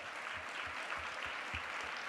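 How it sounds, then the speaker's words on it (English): An audience at a walking summit lunchtime plenary claps for Amelia, a brief burst of steady applause from a crowded room with no voices over it. "Let's give her a round of applause"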